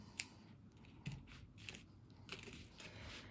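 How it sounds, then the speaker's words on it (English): Scissors cut yarn while a piece is finished on a knitting machine. There are a few quiet, crisp snips spaced over a couple of seconds in a hushed room. "Pull it out, cut it off."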